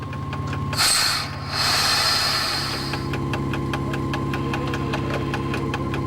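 CC 6538 electric locomotive easing away slowly on series coupling under catenary, a steady low drone and hum with a loud hiss burst early on, then a rising rumble with faint rhythmic ticking, no voices.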